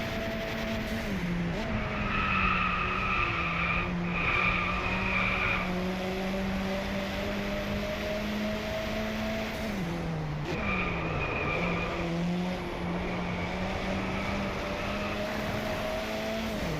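A car drifts in the Driveclub racing game with sustained tire squeal over a steady, revving engine tone that rises and dips through the slides, loud and continuous.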